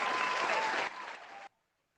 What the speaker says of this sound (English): Oh, I do like that applause.